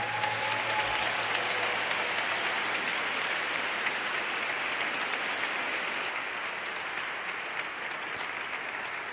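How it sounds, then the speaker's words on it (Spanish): A large audience applauds at an award gala, a steady, dense wash of clapping that holds at an even level throughout, sounding like a full hall. "L'aplaudiment final és pels nostres alumnes"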